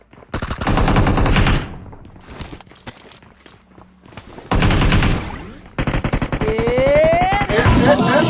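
Loud machine-gun bursts in PUBG Mobile, with rapid strings of shots that start and stop in several separate volleys and quieter gaps between them.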